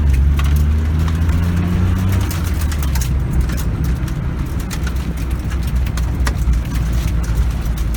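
A 1991 Geo Metro with a 3-cylinder, 52-horsepower engine accelerates hard in a yard, a steady loud engine drone with low rumble sounding throughout, breaking the tires loose, with no talking.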